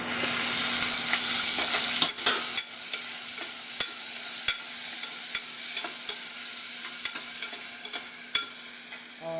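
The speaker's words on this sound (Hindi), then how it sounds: "तो अब ये हल्के से सौते हो गए हैं। अब इसमें डाल देंगे टमाटर," Tomatoes drop into lightly sautéed vegetables in a pressure cooker for a healthy millet dish, setting off a steady loud sizzle with spaced clicks and scrapes of stirring; no one speaks.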